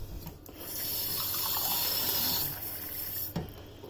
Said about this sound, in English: So first of all, just fill that with water, like so.